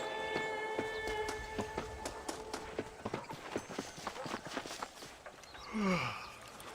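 Horse hooves clip-clop steadily in Red Dead Redemption, a regular rhythm of hoofbeats under a background of game music tones, fading near the end as a short sweeping sound rises.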